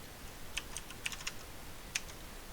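Several quiet, sparse keystrokes on a computer keyboard, a few isolated clicks spread over a couple of seconds while code is typed, with no talking.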